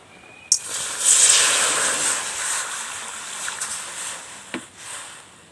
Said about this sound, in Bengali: কড়া গরম হয়ে গিয়েছে, এবার আমি জল দিয়ে দেবো।